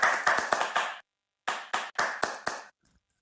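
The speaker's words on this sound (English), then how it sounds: "But thank you for clapping." An audience applauds at the end of a talk on empathy in games: two bursts of brisk, close, fairly loud clapping separated by a short pause, with no voices over them.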